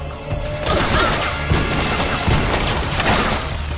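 Dense, loud bursts of gunfire crackle continuously in a Metal Gear Solid 4 firefight, with several sharper impacts punctuating the steady barrage and no talking over it.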